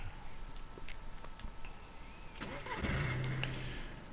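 A car engine in DayZ cranks and catches, firing up briefly after a stretch of quiet ambient noise, then settling into a low running rumble.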